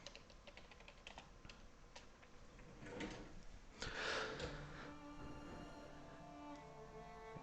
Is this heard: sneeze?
no